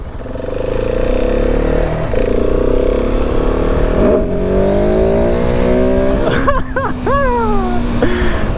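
A 2019 KTM 690 SMC R supermoto motorcycle is ridden, its engine loud and close, droning steadily and then rising through several sharp revving pulls near the end. A voice briefly whoops over the engine.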